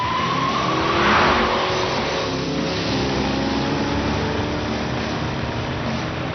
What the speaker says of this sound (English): Jimmy puts each car to the test in a slalom and drag course